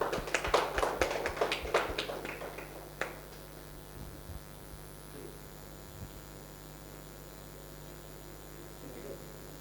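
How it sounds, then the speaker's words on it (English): Applause for a guest speaker at a professional seminar: a quick burst of clapping in the first three seconds fades out, leaving a faint electrical hum and a quiet room. "a round of applause, please"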